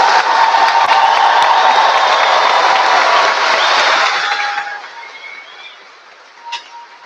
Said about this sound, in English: we would like to make a huge round of applause